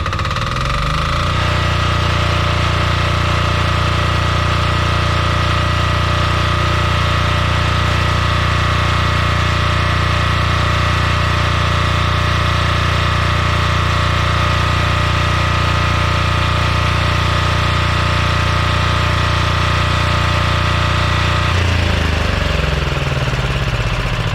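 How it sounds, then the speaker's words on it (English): The 186F diesel engine of a DuroStar DS7200 generator cranks and catches on its first startup after an oil change, then settles into a loud, steady knocking idle that runs for about twenty seconds before it winds down. "First startup."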